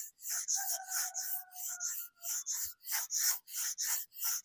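Hand filing or rubbing of a damaged hardened-steel engine crankshaft to smooth its surface, heard as steady back-and-forth rasping strokes, close and fairly quiet, with no talk.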